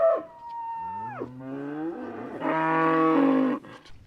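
Newly arrived cattle moo in a long, drawn-out call that bends down in pitch, then swells into a louder sustained bellow near the end, heard alone and fairly close on a farm.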